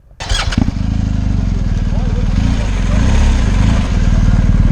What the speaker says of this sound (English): I just love riding BMW bikes, whether it's on track or off road.